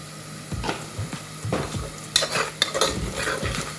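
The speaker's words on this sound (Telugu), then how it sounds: "ఉల్లిపాయలు కాస్త కలర్ మారినాయి దీంట్లో ఇప్పుడు నేను ఉప్పు వేస్తున్నాను" Onions sizzle in a pan for vegetable khichdi while a spoon stirs them in quick, repeated scraping strokes, close and clear with no talk.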